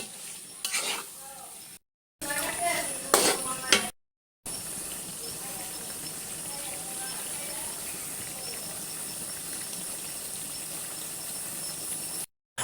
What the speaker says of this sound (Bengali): এপিট ওপিট করে মাংসটাকে মশলাটার সাথে ভালোভাবে মিশিয়ে নিচ্ছি।